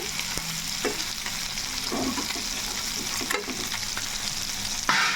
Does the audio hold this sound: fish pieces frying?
yes